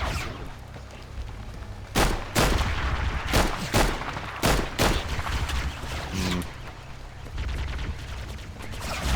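Hip-fire gunshots from a revolver in Halo CE ring out as a string of loud, sharp bangs with uneven spacing over a rumbling game backdrop, followed by a short reload clatter.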